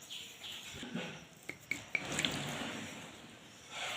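Water trickles and splashes in soft, brief bursts as it is poured into flour to knead dough for dal pitti, fairly quiet and close, with a few faint clinks in between.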